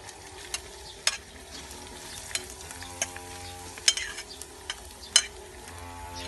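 Pork stir-fries in hot oil for Lao cooking, giving a continuous soft sizzle broken by scraping and clanking strokes of a utensil against the pan at irregular intervals.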